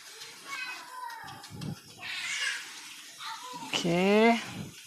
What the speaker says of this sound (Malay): Jirus air sikit nak tengok je dah bersih ke belum.